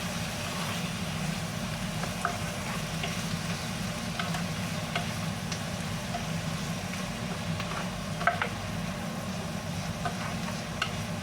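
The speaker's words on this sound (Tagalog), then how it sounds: "Halo-haloin lang natin yan." Squash simmers in coconut milk in a pan as it is stirred, a soft continuous bubbling sizzle over a low steady hum with faint occasional scrapes and clicks, no voices.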